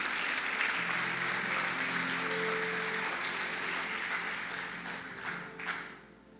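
A church congregation applauds during a sermon, a full sustained burst of clapping that stays strong before thinning and fading near the end, with some crowd noise mixed in.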